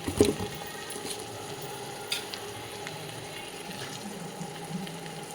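Mushrooms for a kaalan kootu are tipped into a cooking pan with a brief thud and rustle at the start, followed by a steady soft sizzle and faint stirring, close and without talk.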